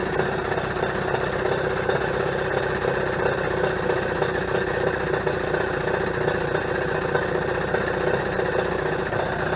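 A Mercury 25 HP outboard motor idles roughly and steadily at close range, its continuous low mechanical drone holding without pause and with no voices over it.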